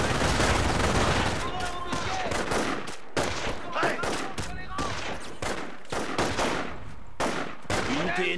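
Machine gun fire in the Company of Heroes game, set around Cherbourg, rapid bursts of loud automatic gunfire with some single shots, close and harsh, continuing in bursts throughout with brief gaps, mixed with other battle noise.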